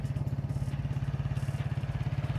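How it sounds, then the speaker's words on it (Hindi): A TVS Ntorq 150 scooter engine idles with a steady, rapid low putter of even exhaust pulses, close and moderately loud, with no other sound. "आइडियल कंडीशन पर इंजन साउंड सुनिए, एग्जॉस्ट नोट सुनिए।"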